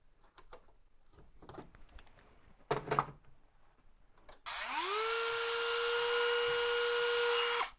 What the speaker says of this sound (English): that's exactly what I'm going to use, because Dremel leaves a very, very clean edge.